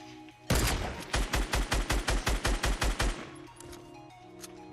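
Rapid burst of about a dozen loud gunshots in Fortnite Battle Royale, fired in an even rhythm for roughly two and a half seconds, then quiet game ambience.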